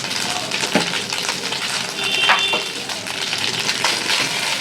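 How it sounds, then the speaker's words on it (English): Rice tossed and stirred with ghee in a hot pan, giving steady close sizzling and frying with soft scraping from the stirring throughout. "Give it a quick stir."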